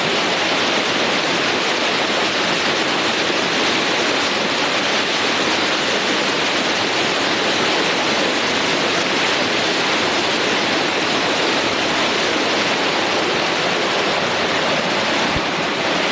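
Cascade Falls waterfall roaring with steady, loud rushing water, recorded up close from above the falls as a continuous broadband wash with no talking.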